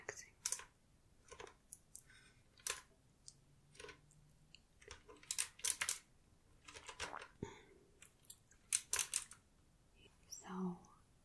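Clicky, mechanical keystrokes from a Qwerkywriter S typewriter-style keyboard come in bursts and short runs with pauses between them, close and fairly quiet, with a faint soft voice near the end.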